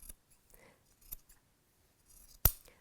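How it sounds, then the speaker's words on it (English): Scissors cut across the top of a T-shirt for a quilt: a few quiet, separate snips close by, ending with one sharper, louder cut, with no voices. "So I'm going to cut right across the top."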